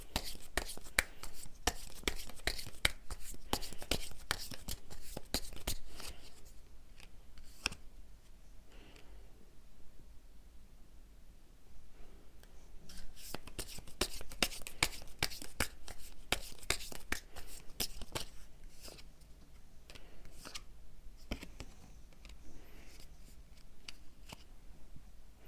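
Tarot cards being shuffled and handled during a reading, making dense runs of quick papery riffles and snaps with a brief lull midway, close and fairly soft, with no talking.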